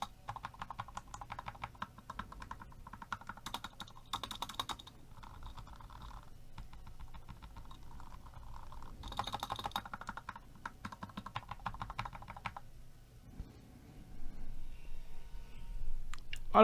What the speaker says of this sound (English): a bit of key bashing here and there with the keycaps on the bottom row there, and without keycaps just on the straight switches